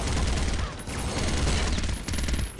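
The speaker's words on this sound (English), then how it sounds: "All these butcher dudes running around with machine guns" Loud, sustained bursts of machine gun fire from the video game Soldier of Fortune, near and continuous with a brief dip partway through, filling the whole stretch with rapid rattling shots.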